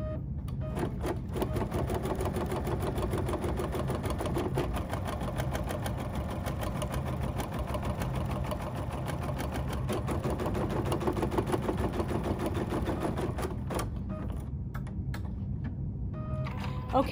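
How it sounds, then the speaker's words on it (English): An embroidery sewing machine runs continuously, basting fabric onto its hoop with a fast, even mechanical chatter of needle strokes, steady and close, no voices, briefly easing near the end. "I am going to make sure that I have my basting function engaged, and then that's going to help sew my design into my hoop"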